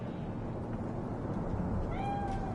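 A cat meows in the video game Cyberpunk 2077: a single short meow near the end, partly buried under loud, constant game ambience.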